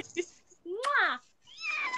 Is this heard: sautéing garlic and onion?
no